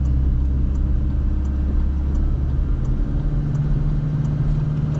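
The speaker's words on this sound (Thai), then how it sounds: "เดี๋ยวเรามาทดสอบการติดบูทกัน F55 แปรผันนะครับ" A Toyota Revo 2.8 turbo pickup with an F55V variable-vane turbo and intercooler gives a loud, continuous low engine roar under boost, steady and close with no talk.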